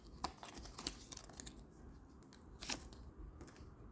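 AirPods Pro packaging being opened by hand, giving soft close crinkles, scrapes and small clicks in a quiet room, with a few sharper taps scattered through.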